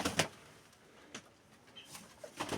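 White pigeon cooing nearby, a few soft separate calls and rustles spaced through a quiet stretch, with faint wing sounds.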